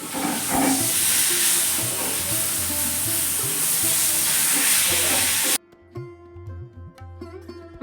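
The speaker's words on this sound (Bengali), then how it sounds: "মাছের মাথাগুলো ভাজিতে বসিয়ে দিলাম" Fish heads frying in hot oil in a home kitchen, a dense continuous sizzle with stirring and scraping. The sizzle cuts off abruptly partway through, leaving quieter clinks and kitchen sounds.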